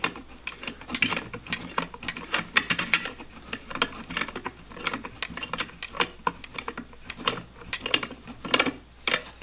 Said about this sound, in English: Just going to take a pair of channel locks here right quick to tighten that down with.